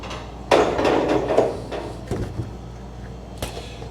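A sheet metal duct transition is clamped and bent on a brake, giving a loud metallic clunk followed by a rumbling flex of metal, then several sharper knocks and a final clack.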